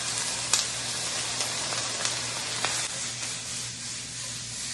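Yellow and green peppers, onions and pineapple sizzling in a hot pan, a steady loud hiss with a few sharp crackles and pops and a faint low hum beneath.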